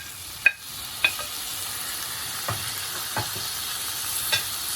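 Tomatoes sautéing for a mutton kofta curry, a soft steady sizzle broken by several sharp scrapes and taps of a spoon against the pan, fairly quiet and close.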